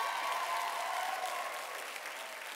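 Audience applause for young people at a First Wednesday church youth gathering, a dense steady wash of many hands clapping that holds loud throughout, fading only slightly toward the end, with no talk over it.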